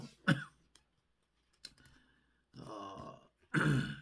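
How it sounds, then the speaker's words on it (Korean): A person coughs several times up close, with short harsh bursts separated by quiet pauses and a longer rasping cough at the end. "기침이 아직도 약을 먹어도 잘 끊어지지를 않습니다"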